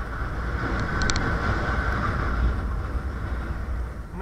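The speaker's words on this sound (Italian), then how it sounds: "primo giro in sella del NKE." A Thundervolt NK-E electric pit bike riding on a track, giving a steady, fairly quiet whir and rolling rumble with a faint high tone, heard close and continuous with no voices.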